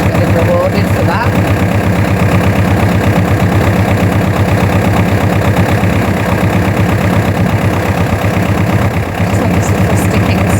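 A tractor engine runs continuously with a steady, loud, low rumble throughout, heard outdoors during a horse-riding session, some distance away.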